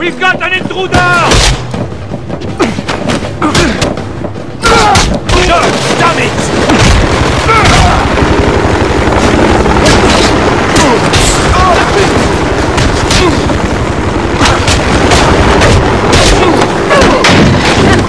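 Gunfire erupts in The Bourne Conspiracy video game as a dock assault begins: dense, continuous bursts of shots and booming blasts, loud and near, running almost unbroken with game dialogue over it.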